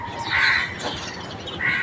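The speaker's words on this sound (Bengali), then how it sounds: "পাখির ডাক" A crow caws a few times outdoors in a quiet village setting, fairly close and clear, with faint background ambience and no talking.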